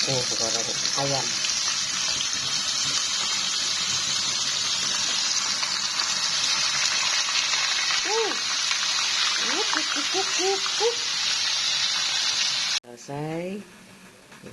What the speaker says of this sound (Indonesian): sekarang aku mau goreng ayam.